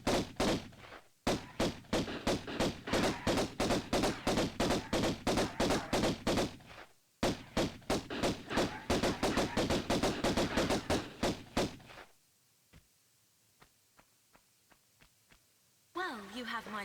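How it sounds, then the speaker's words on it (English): Rapid gunfire from Tomb Raider (1996) as Lara shoots Larson, loud repeated bursts of pistol shots in quick succession, broken by a short pause, then trailing off into sparse single shots before a voice begins at the end. "So we're just going to go and shoot Larson a little bit"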